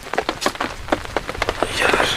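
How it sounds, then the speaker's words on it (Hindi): Heavy rain patters and drums close by on a surface at an outdoor bushcraft shelter, with irregular bursts of drops and a steady wash of water noise building toward the end. "अबे ये बारिश ही नहीं हो रही बंद यार"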